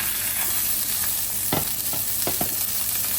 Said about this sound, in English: See the sear?